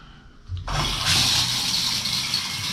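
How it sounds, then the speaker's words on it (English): Water streams from a hotel bathroom shower head, starting abruptly after a short quiet moment and then running as a steady, loud, hissing spray. "That's a very good flowing shower head."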